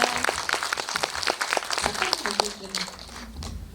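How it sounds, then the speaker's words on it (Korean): Audience applause after a film screening and guest talk for the movie 그녀에게: scattered, uneven clapping from a seated crowd, with voices speaking over it and the clapping thinning toward the end. "박수 부탁드립니다"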